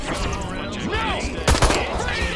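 Gunfire in the Destroy All Humans video game: a dense burst of shots around the middle, with game sounds and voices throughout, loud and close.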